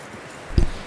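A horse's hoof lands once with a soft, close thud on the ground in Red Dead Redemption 2, a single short clip-clop against quiet background.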